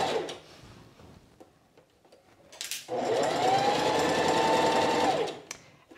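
A sewing machine stitches a bust dart through dress fabric for a sheath dress, its steady whirring run lasting about two seconds, close and loud, after quieter handling noises and soft movement.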